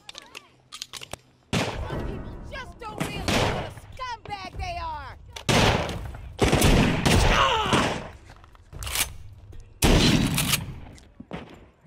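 Gunfire in Walking Dead: Saints & Sinners, a VR zombie game: a string of loud, sharp shots fired at separate moments, each with a short decaying tail, with game voices and noise between them.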